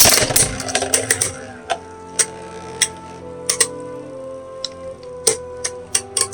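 A plastic Beyblade launches into a stadium and spins, its engine gear clicking and ratcheting, with sharp irregular clacks as it strikes the walls, close and fairly loud over a whirring hum.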